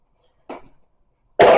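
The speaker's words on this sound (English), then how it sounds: "I'm still coughing, but it's productive coughing" A single person coughs twice, a short muffled cough followed a moment later by a louder, harsher one, close up in a quiet indoor room with no talking.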